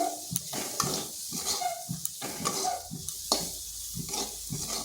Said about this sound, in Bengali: এগুলো ভালোভাবে মিশিয়ে নিচ্ছি